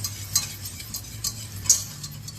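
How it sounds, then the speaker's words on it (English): Melted butter and flour are stirred in a pan for a homemade cheese sauce, giving soft scraping and occasional sharp clicks of a utensil against the pan, close and quiet, with no talking. "You have to stir a lot with this."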